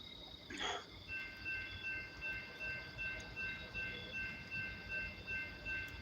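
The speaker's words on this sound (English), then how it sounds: "Train's coming." A train passes at a distance outdoors at night near a campfire, a low rumble with faint rhythmic clatter, joined by a short whistle-like sweep and steady high insect chirping.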